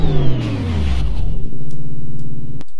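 McLaren P1 supercar engine firing up close by, a loud starter whine dropping into a deep rumbling idle that swells and steadies, then cuts off abruptly.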